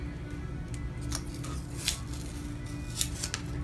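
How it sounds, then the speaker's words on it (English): Tape peels off a painted deer antler in a few short, crackling rips over a steady low background hum. "now what we're gonna do is pull off this tape."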